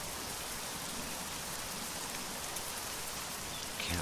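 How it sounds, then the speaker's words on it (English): Steady, dense rain in the truck-driving video game Euro Truck Simulator 2, a constant even hiss of drops hitting surfaces with no pauses. "And it's raining, of course."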